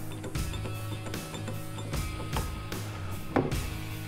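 A Kurt TriLock vise fitted with CARVESMART jaws opens with a series of close mechanical whirs and rhythmic clicking, ending in a sharper metallic clack near the end.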